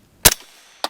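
Two sharp, close shots from a 5.56 rifle fitted with a suppressor: a crisp muffled crack, a brief pause, then a second shot, with a quick decay after each.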